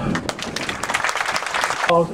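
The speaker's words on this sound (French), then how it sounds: "Je crois qu'on peut encore t'applaudir." A crowd applauds with steady clapping throughout, fairly close, ending as a voice briefly begins.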